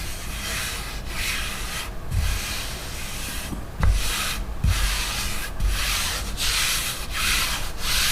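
Sandpaper rubs back and forth over sanding sealer on a fabric-topped guitar body, loud close-up strokes in a steady rhythm with brief pauses and light taps between passes.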